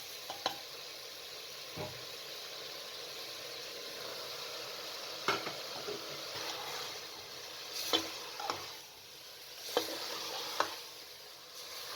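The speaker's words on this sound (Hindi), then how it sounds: "तकरीबन 5 से 7 मिनट तक अच्छे तरीके से भून लें" Cauliflower and potatoes frying with spices in a pan, a soft steady sizzle with scattered clicks and knocks of a spoon, fairly quiet and close.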